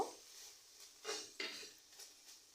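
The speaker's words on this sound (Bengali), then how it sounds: "এখন খুব ভালো করে নাড়াচাড়া করে রান্না করে নিব" Momo chicken filling with tomato and chili flakes being stirred in a pan, heard as soft, faint metallic clinks and scrapes of a spoon at a slow, irregular pace.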